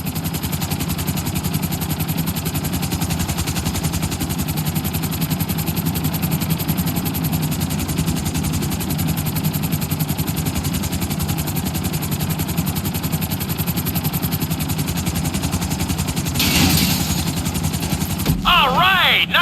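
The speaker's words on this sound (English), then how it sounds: "Bring the helicopter down gently onto the helipad." A helicopter in GTA San Andreas sets down on a helipad, its steady rotor and engine drone running loud and unbroken throughout, with a brief burst of other game noise and a rising whine near the end.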